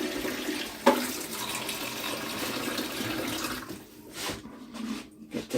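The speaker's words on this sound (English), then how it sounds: "Just add some water to that from the container." Water poured from a container into an Instant Pot for chicken stock, a steady close splashing stream for several seconds that thins and breaks into intermittent trickles near the end.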